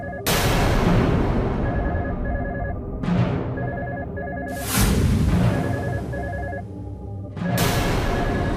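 A telephone rings with a repeating electronic tone in a Hindi TV drama, repeatedly overpowered by loud, booming dramatic hits that crash in every few seconds.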